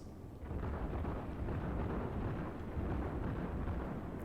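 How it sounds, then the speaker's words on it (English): Heavy naval guns from a Gremyashchy destroyer in World of Warships roll out as a dense, rumbling booming wash that swells after a brief quiet start and holds steady throughout, with no voices. "he is shooting at them at a distance where he can reasonably well avoid shots"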